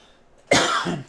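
A single sharp, close cough bursts out after a moment of quiet, followed by a short rough tail.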